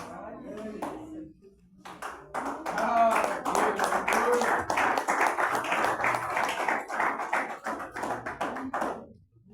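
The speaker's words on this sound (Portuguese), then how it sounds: "Bate palmas, palmas, palmas, bate palmas a Jesus." A church congregation at a communion service in Sítio São Francisco, Guarulhos, claps in rhythm along with singing worship, steady sharp hand claps rising under loud voices and then tapering off.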